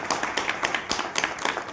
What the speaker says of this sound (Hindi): मैं चाहूंगा पुनः इनके लिए एक बार जोरदार तालियां होनी चाहिए।